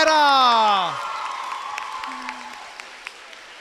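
After a fading tonal sound in the opening second, a crowd claps lightly and steadily for the junior women's 8 km race finishers, with scattered distinct claps.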